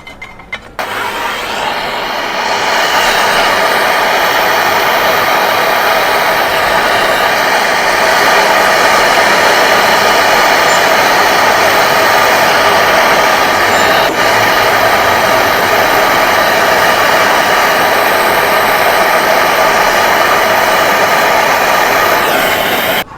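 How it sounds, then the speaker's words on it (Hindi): A torch roars steadily up close while a pin valve is welded onto the suction line of a water dispenser, a continuous loud hiss that holds for over twenty seconds after a brief start. "तो हमें इसे यहाँ पे वेल्डिंग करनी है सक्शन लाइन में।"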